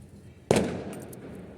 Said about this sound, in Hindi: सांझ हो गई है और ऐसे में ही पटाखे छूटने लगे हैं।